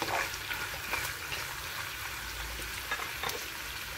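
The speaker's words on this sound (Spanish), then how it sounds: "Estoy friendo el jamón antes de poner las verduritas para hacer el sofrito" Ham frying in a pan for a lentil sofrito, a soft continuous sizzle and crackle with occasional stirring scrapes, close by and steady, no voices.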